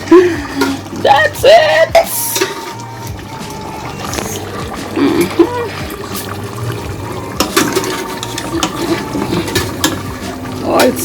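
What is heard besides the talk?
water poured into a cooking pot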